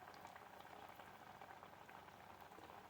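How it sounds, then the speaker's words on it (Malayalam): Vada made from lentils and jackfruit seeds frying in coconut oil, a steady dense bubbling sizzle that holds evenly throughout, close and continuous with no talk. "ഓരോന്ന് വെളിച്ചെണ്ണയിൽ ഇട്ട് കൊടുക്കാം."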